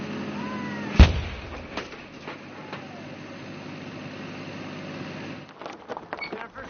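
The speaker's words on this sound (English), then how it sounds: "Earlier in the day, Dave gave the cannon a test run." A test firing of a human cannonball cannon gives one sharp, loud boom, followed by a long low rumble and hiss that fades, then scattered faint knocks and movement.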